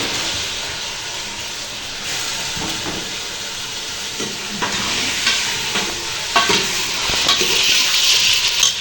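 Ginger and garlic fry in a pan on a home kitchen stove, giving a steady loud sizzle and hiss with occasional stirring scrapes and clinks, and no talking.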